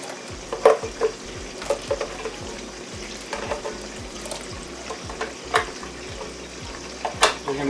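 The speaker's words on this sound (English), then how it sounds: "And then again we're going to stir until it's mixed." Pepper mixture being stirred into a sizzling pan of sweet and spicy chicken wings, with a steady frying hiss and repeated scraping clicks of the utensil against the pan, close and alone.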